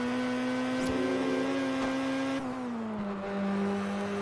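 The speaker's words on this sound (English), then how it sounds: "It's got a very weird engine note when it's high up in the revs. It sounds like it's oscillating." Stage 3 tuned Saleen S7 supercar in Test Drive Unlimited held high in the revs, a steady loud engine drone with a slightly wavering, oscillating note that dips in pitch partway through, with no talk.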